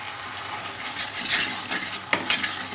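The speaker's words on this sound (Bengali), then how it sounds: "তেঁতুলের জলটা দিয়ে আমি 2 মিনিট আবার কষিয়ে নেব।" Boiled dal with tamarind water sautéing in a pan, a continuous sizzle broken by scraping stirs and a few sharp clinks of a spoon against the pan, no voices.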